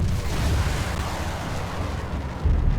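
An AIM-9 missile launching in a flight combat video game, a sustained loud rumbling roar of rocket exhaust with a low boom swelling again at the end, no voices over it.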